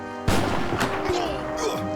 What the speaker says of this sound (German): Sie kommen noch mit den Kanonen her.